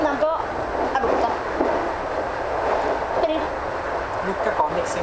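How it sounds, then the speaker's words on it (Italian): Steady broadband rumble of a moving train carrying people to Lucca, with rattling and wind-like noise running throughout, heard from inside the carriage as continuous close background. "Siamo in treno."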